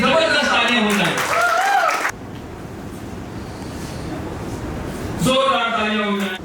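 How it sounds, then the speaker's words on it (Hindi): Audience applause for an employee at a company anniversary celebration, a broad steady wash of clapping between stretches of amplified voice and music at the start and end. "मैं सभी से गुजारिश करता हूं कि राजू जी के लिए जबरदस्त तालियां हो जाए"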